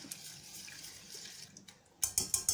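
Water is poured from a tap into a flour and onion mixture for a 1940s wartime pie, with faint trickling at first and then several short, close splashy bursts near the end.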